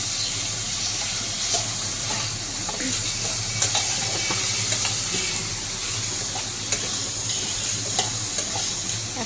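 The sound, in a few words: frying potatoes and carrots in a pan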